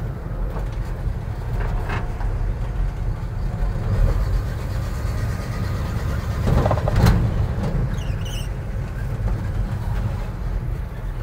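A 1957 GMC truck fitted with a WW2 tank transmission rolls along a road, giving a steady low rumble and drivetrain drone with no one speaking.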